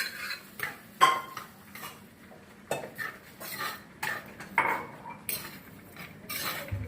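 A metal spoon scrapes and clinks against a pot of jackfruit seed and raw mango curry in irregular bursts, close and fairly crisp, with quiet pauses between strokes.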